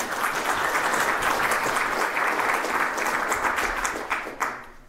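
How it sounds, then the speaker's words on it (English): Conference audience applauding a speaker at a cozy Bayesian statistics event, a steady dense wash of clapping from a sizable crowd that holds evenly, then thins and tapers off near the end with a few last claps. "Big applause."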